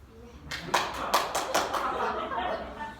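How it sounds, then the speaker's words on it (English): A church congregation claps along to a gospel song, a handful of sharp rhythmic claps near the start giving way to looser clapping under voices and murmuring. "if we're going to clap, you got to clap on beat"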